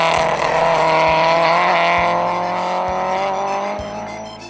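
Vintage race cars at the Tour Auto rally roar loudly and steadily, a dense engine drone with a passing whoosh that fades slightly toward the end.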